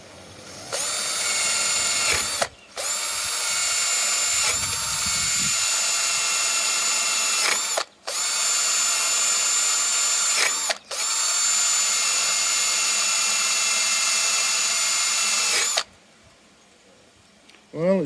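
Power drill spinning a brush attachment at high speed, a loud sustained whine that runs in long stretches broken by brief stops, close by, with someone speaking over it.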